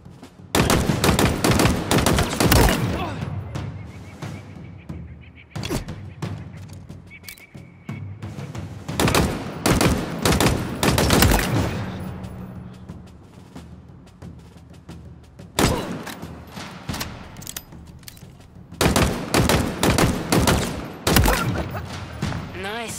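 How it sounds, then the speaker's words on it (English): Bursts of gunfire ring out across a Halo Infinite training range as targets are shot, in several loud clustered volleys separated by short pauses, with in-game voice audible at times. "Headshot these targets once you've dropped their shields."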